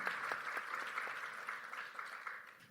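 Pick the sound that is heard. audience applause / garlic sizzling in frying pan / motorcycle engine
audience applause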